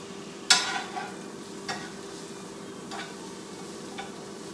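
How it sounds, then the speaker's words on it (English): Onions cooking in a pan, with a quiet, steady low sizzle and a few sharp spatula taps or scrapes spaced a second or so apart, heard close with no talk. "just going to cook these onions for just a little bit until they become translucent"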